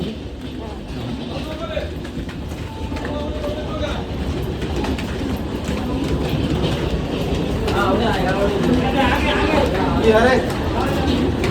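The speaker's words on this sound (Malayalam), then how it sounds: "ട്രെയിൻ എത്തിയിരിക്കുന്നു ഇതാണ് ട്രെയിൻ" Train arriving at a railway platform in India, a low rumble and clickety-clack of wagons that grows louder over several seconds, with people talking and chattering throughout.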